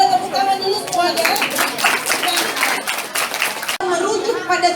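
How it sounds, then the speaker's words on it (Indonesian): A class of seventh-grade students on an outing claps together in a burst of scattered applause, mixed with children's chatter and voices, with a brief cut before the noise continues. "Kita boleh tepuk tangan dulu semuanya."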